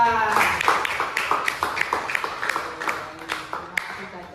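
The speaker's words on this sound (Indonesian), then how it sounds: "Tepuk tangan untuk Caca" Students in a classroom clap for a classmate, a brisk run of sharp, close hand claps in an uneven rhythm, with faint voices mixed in.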